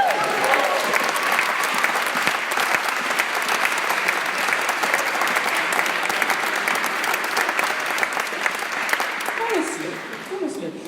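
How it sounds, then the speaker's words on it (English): A large audience at a 2019 musical event breaks into sustained, dense applause that holds steady for about ten seconds before tapering, with voices audible beneath the clapping. "A round of applause for that."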